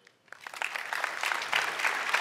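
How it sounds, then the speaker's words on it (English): Keynote audience applause after a demo, a dense burst of clapping that swells quickly from silence and holds steady, fairly loud and close. "Let's give him another round of applause"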